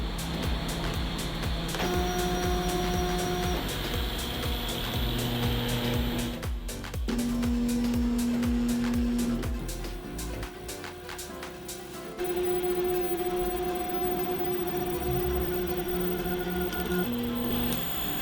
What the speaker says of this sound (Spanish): Vamos a realizar un homing de la impresora para comprobar que todos los finales de carrera funcionan correctamente.